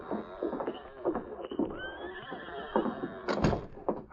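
Horse neighing and whinnying in an old Yukon radio drama, a loud close whinny with clip-clop hooves, a door sliding, and scattered movement over about four seconds, no talk.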